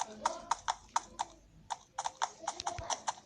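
Hooves of a horse in a video game clatter in quick, sharp, evenly spaced clip-clop beats, faint and dry, running on with a brief pause midway.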